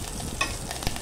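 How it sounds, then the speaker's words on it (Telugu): Dried red chilies crackle in hot tempering oil of cow ghee over medium heat, a short, quiet, steady sizzle with two small pops. "ఇప్పుడు ఎండుమిర్చి వేసుకోవాలి."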